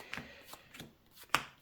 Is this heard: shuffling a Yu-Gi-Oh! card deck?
yes